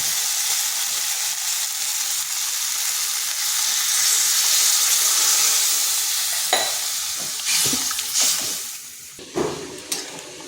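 Water poured into a pan of frying taro curry with small fish sets off a loud, steady sizzle and hiss, with a few sharper splashes and stirring clatters toward the end.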